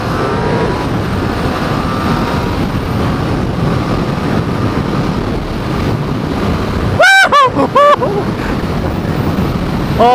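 A Honda CB1000R motorcycle's horn gives a few short toots near the end, loud over steady wind rush and road noise while riding.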